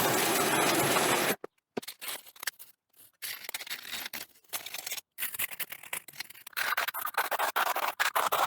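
Metal grill grates on a barbecue being restored are scraped clean in irregular bursts of harsh, close-up scratching and rasping, separated by short pauses, with a steady rushing noise at the start.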